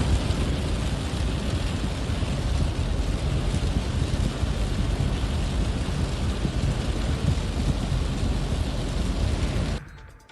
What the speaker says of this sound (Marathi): धाराशिव जिल्ह्यात काल रात्री जोरदार पाऊस झालाय.